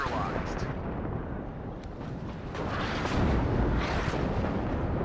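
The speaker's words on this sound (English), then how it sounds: "Good timing on the artillery though." Artillery fire in the video game WARNO rumbles as deep, continuous booms and blasts that swell in waves, with a few sharper pops layered over a dense, heavy low roar.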